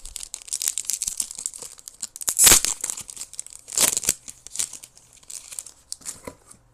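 Foil Lorcana Winterspell booster pack wrappers crinkle and tear open close by, a steady run of crisp rustling with two louder ripping bursts, no voices.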